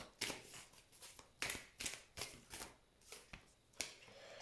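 Tarot cards being shuffled for a reading, a run of soft papery riffles and slaps in irregular bursts, close and fairly quiet with no talking.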